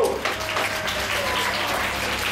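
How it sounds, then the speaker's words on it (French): Children applaud Pépito in a steady patter of clapping that lasts a couple of seconds, close and even, with a faint voice underneath. "Bravo les enfants, on applaudit Pépito"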